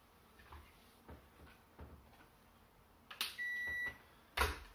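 A microwave oven powered through a Victron Phoenix 12V to 240V inverter starts up: a few soft clicks and knocks, a sharp beep, then a steady hum of the running oven, ending with another loud beep.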